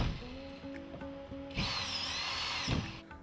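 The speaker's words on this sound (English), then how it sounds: "using a drill to insert the drywall screws" A power drill whirs briefly, then revs up into a louder, sustained high-pitched whine as it drives a drywall screw, close by, with no talking.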